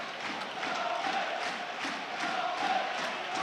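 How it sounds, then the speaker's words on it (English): Football crowd at a Charlton match in October 2013, a continuous broad wash of fans applauding and murmuring in the stands, steady and moderately loud throughout. "The fans applauding the style of football Charlton are using."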